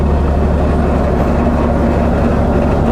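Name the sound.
narrow-gauge diesel locomotive hauling peat wagons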